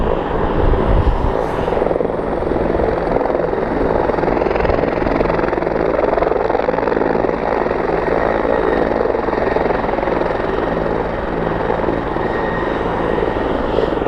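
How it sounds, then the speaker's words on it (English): A loud helicopter roars close by, its rotor thumping steadily and engine droning continuously throughout. "helicopters are definitely a must out here"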